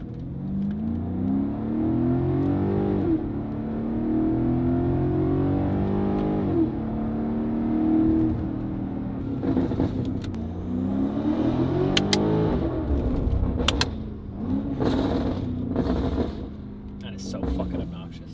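A powerful BMW F90 M5 S63 V8 engine with a full titanium exhaust and free-flow downpipes revs hard and repeatedly, with loud throaty exhaust roars rising and falling, plus sharp crackles and pops near the end.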